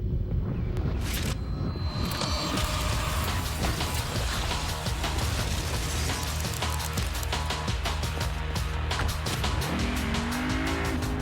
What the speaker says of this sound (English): Introducing the first ever 306 horsepower Lexus RC Coupe.